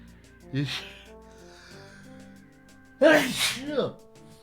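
A person sneezes twice, a small sneeze early and a sharper, louder one about three seconds later with a gasp, over quiet room tone during a tabletop game session.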